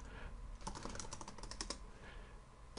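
Rapid clatter of keys on a computer keyboard, bursts of typing entering router configuration commands, close and fairly quiet, with no talk.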